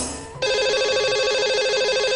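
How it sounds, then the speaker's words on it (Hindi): A telephone rings for a call placed live on a Hindi TV call-in show, a steady repeating electronic ring that starts sharply after a short quiet lead-in and continues loud and close to the end. "तो चलिए इन्हें लगाएंगे हम कॉल।"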